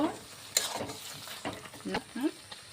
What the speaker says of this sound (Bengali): ঢাকনাটা এবার খুলে নিচ্ছি একটু নাড়িয়ে নেব